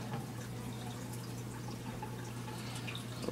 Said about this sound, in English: I'll just take the water that's in the bottle, pour it into another one